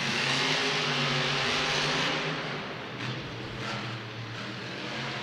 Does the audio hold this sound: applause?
no